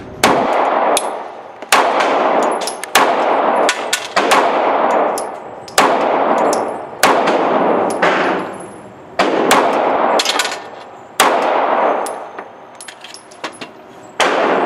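Rapid pistol fire from an EMP handgun striking steel targets outdoors, each shot followed by a bright ringing clang, fired in quick bursts with short pauses between strings.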